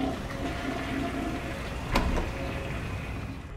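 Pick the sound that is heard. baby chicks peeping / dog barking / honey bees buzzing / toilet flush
toilet flush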